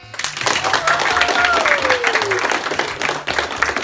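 Audience applause at a Frisian singing competition final, a dense steady wash of clapping held at even loudness, with a rising and falling tone and faint low music running beneath it.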